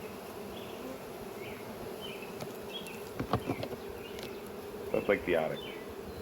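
Honey bees in a beehive hum in a steady, close drone, with a voice speaking briefly over the buzzing midway and near the end.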